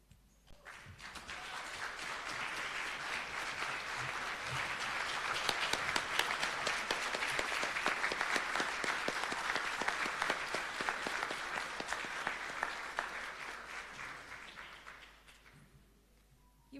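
A graduation ceremony audience at a coding academy claps steadily for the graduates, the applause swelling and then tapering off near the end, moderately distant in a large hall.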